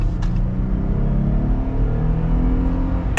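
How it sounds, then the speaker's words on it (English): A 2022 Jeep Gladiator Willys accelerating at full throttle gives a deep engine rumble with a rising growl, heard close and continuous over a few seconds. "kind of get our full-blown acceleration here."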